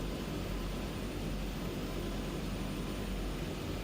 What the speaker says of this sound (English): We're just taxiing on idle at the moment.